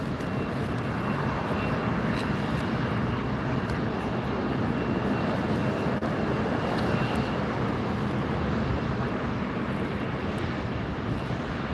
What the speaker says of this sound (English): You can see that next flight just coming in over that double charge sign there.